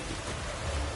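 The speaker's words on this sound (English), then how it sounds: "Raining fucking buckets." Heavy in-game rain from a PS4 game, a dense steady wash of noise with a deeper rumble underneath, loud and continuous with no talking.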